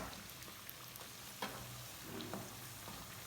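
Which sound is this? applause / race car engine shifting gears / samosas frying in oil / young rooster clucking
samosas frying in oil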